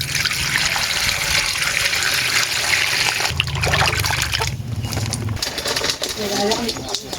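Coconuts are rinsed in running water in a kitchen while cooking ginataang palawan, giving a steady trickling, splashing wash with faint handling knocks and a bird cooing nearby.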